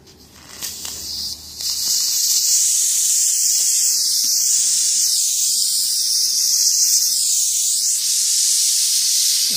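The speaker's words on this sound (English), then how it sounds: "release the steam from the steam outlet valve" A steady, loud hiss of steam pours from the outlet valve of a small vertical 3-inch model steam boiler fired on methylated spirits, rising after a couple of seconds of handling noise and holding with slight wavering.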